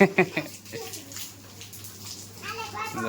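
A hose sprays water onto small children playing outdoors in the rain, a continuous hiss and splash with loud bursts of children's voices at the start and again near the end.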